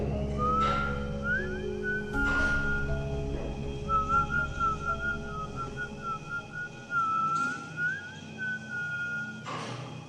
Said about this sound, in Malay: Pintu tertutup dan seperti tadi, aku bersiul lagi. Tapi kali ini perlahan.